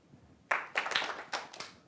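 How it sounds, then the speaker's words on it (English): An audience claps in a few short bursts of applause after a brief quiet start, moderately close and fading quickly, with no talk. "when you find it, clap"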